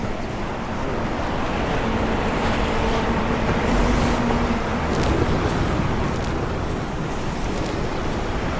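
Steady roar of surf rolling onto Diamond Beach in Iceland, a continuous wash of waves with wind buffeting the microphone.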